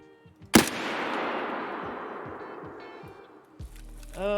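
A single loud, close gunshot in Escape from Tarkov fired at rogues near a hut, its crack trailing into a long, rolling echo, with a smaller sharp report following a few seconds later.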